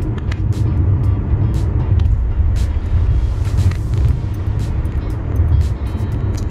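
A car on a road near the beach in Ubatuba, heard from inside a moving vehicle, with steady engine and road rumble throughout and no distinct pass-by peak.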